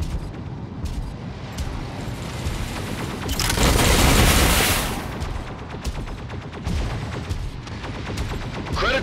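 Incoming weapon fire in the mech combat video game Mech Arena, a dense, continuous barrage of shots and booms that swells into a loud roaring blast midway, then settles back into steady heavy firing.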